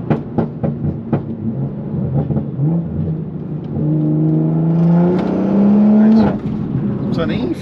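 A car's exhaust pops and crackles with a few sharp bursts, then the engine revs up in a rising drone and drops off, loud and close, with more pops at the end.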